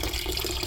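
Water drains out of a steam boiler during basic maintenance, a steady, faint rushing flow like an open tap, with no pauses.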